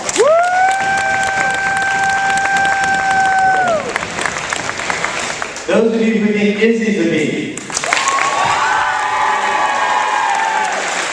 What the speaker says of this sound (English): So first, for those of you who think Tatum's a bee, go ahead and applaud.